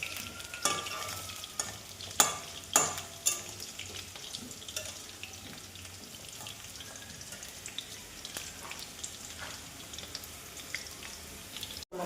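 Potatoes frying in a pan at a home kitchen, a steady soft sizzle with a few sharp stirring clatters early on, fairly quiet with no talking.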